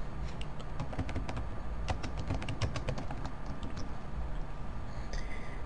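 Rapid, light keystrokes on a computer keyboard click in irregular bursts while text is entered into a document in online editing software, close and fairly quiet over a soft background hiss.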